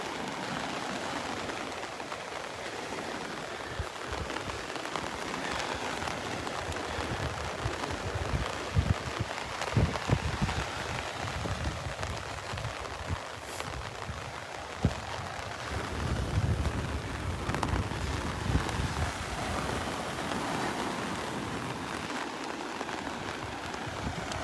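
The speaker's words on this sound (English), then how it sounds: "You can hear it picking up on the umbrella" Rain patters on a beach umbrella at Vanderbilt Beach in Naples, Florida, during a tropical storm, a soft steady drumming that thickens with scattered sharper drops, fairly close and alone without talk.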